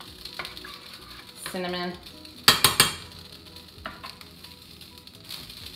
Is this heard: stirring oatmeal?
yes